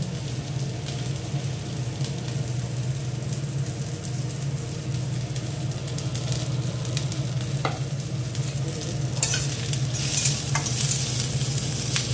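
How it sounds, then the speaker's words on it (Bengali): Potatoes frying in oil in a pan, a steady close sizzle that runs continuously throughout, with a few brief clinks and crackles near the end. "লাল হয়ে ভাজা ভাজা হয়ে গেছে আলুটা"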